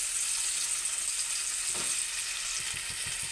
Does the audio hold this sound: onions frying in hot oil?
yes